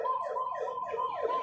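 A fire truck's siren wails in rising and falling sweeps, steady and fairly loud, a little way off with road noise beneath it and no voices.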